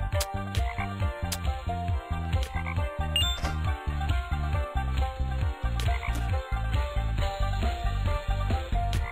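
Repeated croaks from the frog in the video game Ninja Frog pulse in a steady rhythm over looping game music with bright jingling tones, loud and continuous with no talking.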